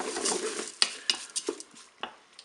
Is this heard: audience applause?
no